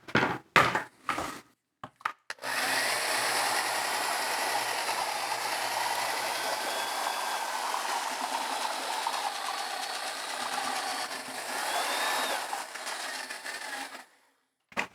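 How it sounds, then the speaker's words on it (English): A paddle mixer attachment churns bone-dry clay trimmings into casting slip, a steady whirring and rattling drone lasting about twelve seconds between brief bumps and clicks at start and end. "I'm going to use my paddle attachment and mix it up."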